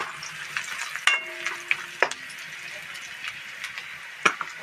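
Onions frying in a pan, a soft steady sizzle with occasional clinks and scrapes of a spoon stirring, close and moderately quiet.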